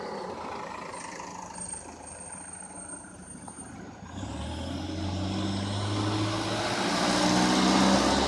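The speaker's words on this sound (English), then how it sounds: "Had to wait on the big brown truck to go by." A big brown delivery truck drives past outdoors, its engine rumble swelling as it approaches and growing louder and closer through the second half, with a rising whine over steady road noise.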